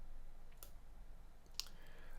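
Two faint computer mouse clicks, spaced about a second apart, over a quiet background hiss while selecting output panning in audio software.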